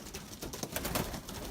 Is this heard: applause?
no